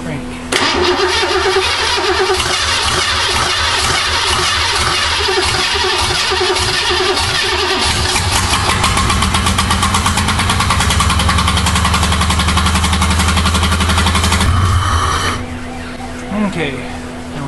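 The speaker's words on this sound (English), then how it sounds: "now we know the engine's missing" A car with an ignition problem cranks, catches and settles into a rough, misfiring idle, loud and close with an uneven pulsing beat, a voice speaking over it.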